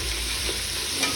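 Onions with salt sauté in a pan, giving a steady, close sizzle and frying hiss throughout with light stirring; no voices.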